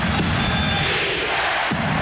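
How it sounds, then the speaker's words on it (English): A basketball arena crowd at the Summit in Houston during the 1994 NBA Finals between the Rockets and Knicks, a dense, loud roar of voices filling the space, rhythmic swells of a chant carrying over it. "The chant of defense here at the Summit in Houston"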